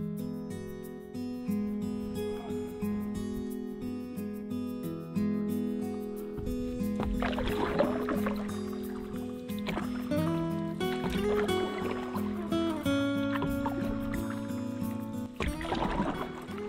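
A paddleboard is paddled on Rama Lake in Bosnia. Soft paddle strokes and water splashes come at intervals over a gentle, steady background with faint tonal music underneath.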